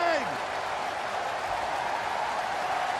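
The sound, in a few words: wrestling crowd reacting to a near fall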